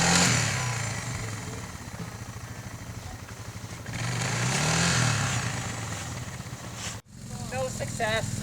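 A Suzuki DR650 motorcycle engine revs hard as the bike climbs a hill off-road, its loud droning exhaust rising and falling. It cuts out abruptly near the end, then picks up again.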